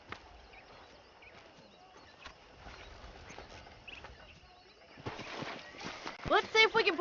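Horses in the Western video game Red Dead Redemption, quiet hoofbeats clopping in the background under faint game ambience, rising to a louder snorting whinny near the end.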